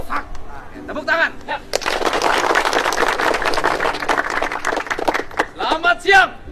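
A group claps hands in unison on command after marching drill, a brisk burst of dense, close clapping lasting a few seconds, with voices speaking before and after it.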